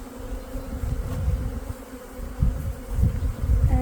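Dense, steady buzzing of many honeybees flying around the entrance of a newly installed nucleus colony's hive, a continuous low drone that swells and dips close by, with no talking.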